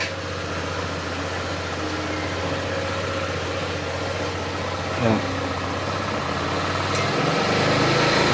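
A Honda Click scooter engine idles with a steady low hum and a faint rattling whir from a loose aftermarket pulley, while someone talks over it at times.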